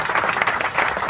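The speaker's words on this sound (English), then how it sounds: "Let's give a round of applause!" Brief burst of clapping and applause for a contest winner during a Filipino wedding-themed online show, a short dense patter lasting about a second.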